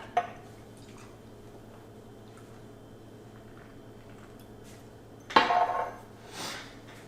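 512 Pale Ale, an American pale ale, poured into a glass: a quiet hiss of ambience, then a sudden splashing pour that gurgles and fades, followed by a brief softer slosh.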